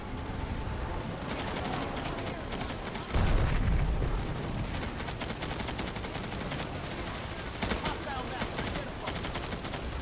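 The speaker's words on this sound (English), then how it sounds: "A lot of anti-air. There's at least one anti-air max involved." Dense anti-air gunfire in the video game Planetside 2 during a massive jungle battle: continuous rapid bursts and heavy flak shots, with a loud booming impact near the middle and sustained crackling fire throughout.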